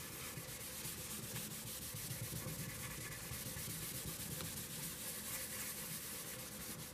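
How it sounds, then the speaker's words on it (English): A rag rubbing crystalline wax polish quickly onto a guitar body, producing a steady, faint scrubbing swish that continues evenly throughout, close up with no talk. "I get a little on the rag and then rub it in."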